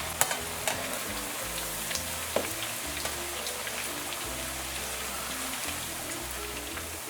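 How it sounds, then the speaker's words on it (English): Plantain chips fry in very hot oil, giving a dense, steady sizzle and crackle with scattered pops, close up and without talk. "I'm just gonna allow that to fry until it has a nice light brown color."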